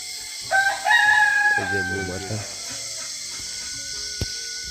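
A rooster crows once nearby, a long strained call, over quiet outdoor ambience in a remote village in the Andaman Islands, with a faint distant click afterward.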